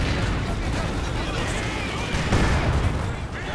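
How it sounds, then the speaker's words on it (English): Artillery barrage pounding a mortar pit in Company of Heroes 2, a dense, continuous rumble of blasts and booms with a heavier burst partway through, steady and loud under a commentator's voice. "this is a coordinated barrage on top of this mortar pit"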